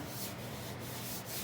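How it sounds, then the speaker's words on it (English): Steady back-and-forth abrasive rubbing as body filler is sanded over a dent in a 1978 Ford F-350 cab corner, with rhythmic strokes close by and no voices. "keep putting some on there, keep sanding it down, keep feeling it"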